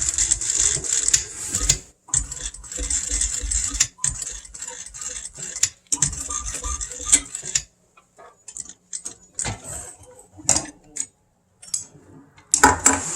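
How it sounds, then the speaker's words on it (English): A sewing machine stitching boat seat fabric, heard as close, rapid mechanical stitching runs that repeatedly stop and restart, followed by scattered clicks and clunks as the handwheel is turned and the material is adjusted. "every time when I stop sewing, I have to crank my wheel on the end to lift the needle out of the material"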